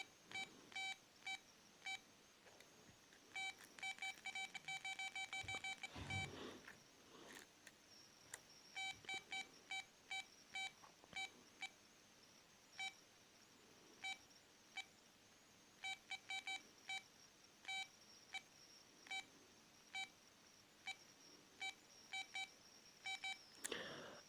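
A Motorola StarTAC Rainbow flip phone from 1997, its large, soft keypad buttons pressed repeatedly, each press giving a short electronic tone beep; quiet, close, irregular series of beeps with brief pauses, no voices.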